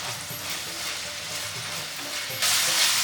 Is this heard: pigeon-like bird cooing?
no